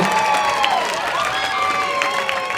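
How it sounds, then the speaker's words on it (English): Crowd at a live singing competition night clapping and cheering, a continuous wash of applause with scattered whoops and shouts, fairly loud and without speech. "Let's give Chris Valley a round of applause."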